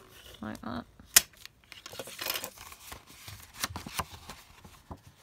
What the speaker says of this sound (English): I just bone folder that down